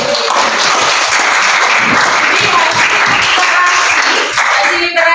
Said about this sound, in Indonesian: Baik, beri tepuk tangan dulu.